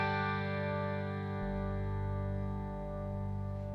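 Zemaitis extended-scale guitar played through effects, a sustained distorted, chorus-laden chord ringing loud and steady with a low bass swell entering partway, no talking.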